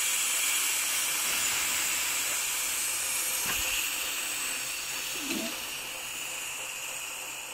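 Steam hissing steadily from a pot of carrot halwa, a broad continuous hiss that stays fairly even and fades slightly toward the end, with a faint knock partway through.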